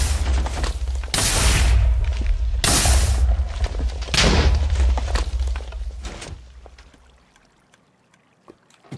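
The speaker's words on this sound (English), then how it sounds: "those explosion sounds are loud" Loud explosions go off at a Minecraft creeper farm, three heavy booming blasts in quick succession with a rumbling roar between them, then fading into quieter scattered clicks and pops.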